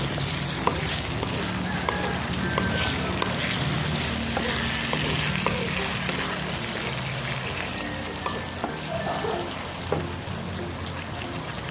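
Long beans and red chili fry in a pan with a steady, loud sizzle throughout, while a spatula scrapes and taps now and then as it stirs.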